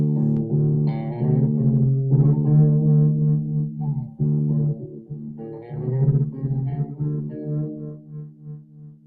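Reverb-treated track with layered, sustained tones that ring out smoothly and blur into one another, loud and steady, with no talking.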